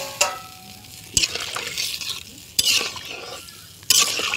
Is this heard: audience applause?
no